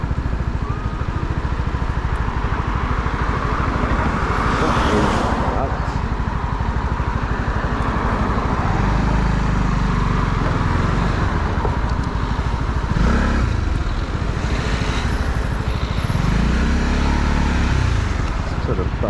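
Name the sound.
Honda CB125R motorcycle riding through Belfast traffic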